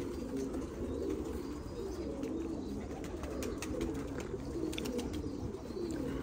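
Pigeons coo softly and repeatedly at a moderate distance, low murmuring calls over steady background noise, with a few faint chirps and sharp ticks scattered throughout.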